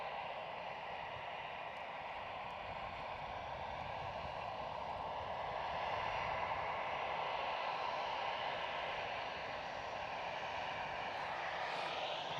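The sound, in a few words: EasyJet airliner at Edinburgh Airport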